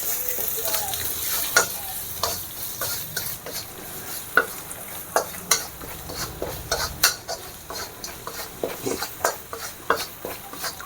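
Spiced moong dal kachori filling with red chilli and roasted cumin powder cooking in a pan, a low steady sizzle broken by frequent sharp scrapes and taps of a spoon stirring against the metal, close and fairly loud.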